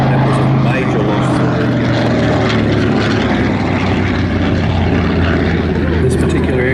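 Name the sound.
WWII American propeller aircraft flying at an airshow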